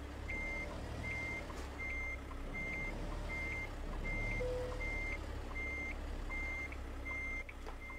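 Reversing alarm from a truck backing up a trailer in a trucking simulator game, beeping steadily about ten times at an even pace over a constant low engine rumble, with no talk.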